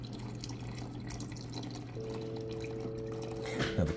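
Water runs from the dispenser of a Whirlpool 29 cu ft French door refrigerator, a faint steady trickle under a low motor hum, with a louder splash near the end.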